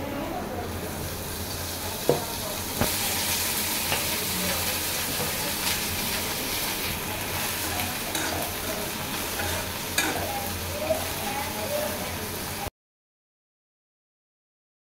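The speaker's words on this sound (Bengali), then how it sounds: "শুটকি ভাজা আমার হয়ে গেছে।" Dried fish (shutki) fries in a little oil in a pan, giving a steady, close sizzle with stirring scrapes and a few sharp clicks, continuous for about twelve seconds before cutting to silence.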